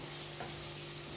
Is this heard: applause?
no